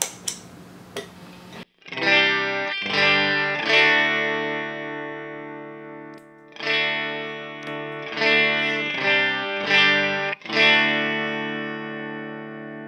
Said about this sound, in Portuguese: Vou adicionar agora o Clean Booster.